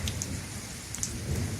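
Steady rain patters under a low, continuous rumble of thunder as a storm eases, with occasional louder drops close by.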